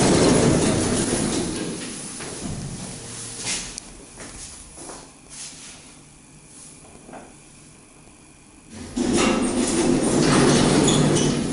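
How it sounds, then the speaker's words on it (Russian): Electric commuter train rolling past a station near Shcherbinka, loud rumble and clatter at the start easing off in the middle, then swelling again near the end, no talk. "Я электричку засниму сейчас."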